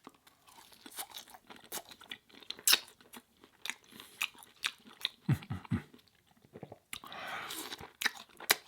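Crunchy crinkle-cut fries are bitten and chewed close to the mic in a vegan mukbang, with a series of sharp crunches and wet chewing in an irregular rhythm and a brief soft rustle.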